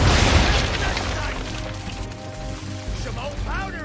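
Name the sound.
ship cannon fire and explosion, video game Assassin's Creed III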